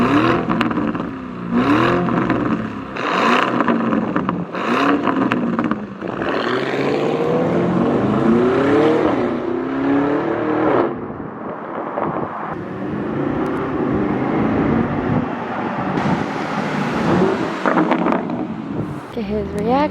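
A Novitec-tuned Lamborghini Urus SUV roars loudly, its engine rising and falling through repeated revs and accelerating sweeps, heard close with people talking over it.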